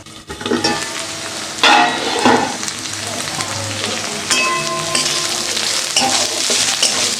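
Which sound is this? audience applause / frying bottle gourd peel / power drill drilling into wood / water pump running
frying bottle gourd peel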